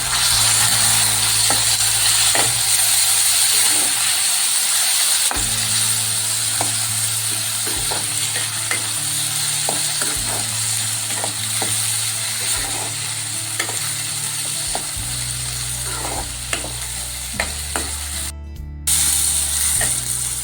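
Chopped tomato frying with onions in a pan, a continuous close sizzle with intermittent scraping and stirring clicks throughout, no talking.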